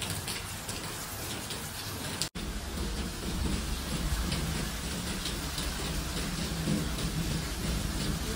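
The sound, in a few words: heavy rain and wind with thunder in Dubai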